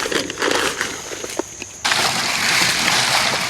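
Sifted seed raising mix streams through a garden sieve into a tray below, a soft continuous gritty hiss with light patters, growing denser and louder after a short pause.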